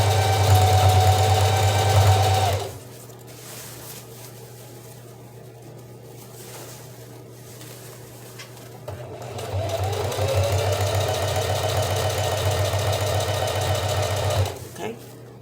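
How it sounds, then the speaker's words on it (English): A sewing machine stitching along a seam of a pair of pants, loud steady whirring at first, then a pause with quiet handling, then a second long run of stitching that stops abruptly. "You're going to stretch and sew right on the top of your existing stitch."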